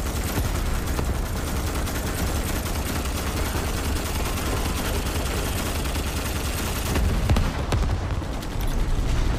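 Dense, constant gunfire and battle din in the Starship Troopers video game, with heavy overlapping shots and booms, steady and loud throughout, swelling slightly near the end.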